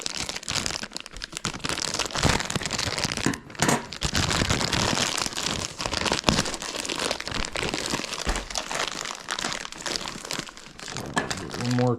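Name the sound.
scissors cutting open Vacpack packaging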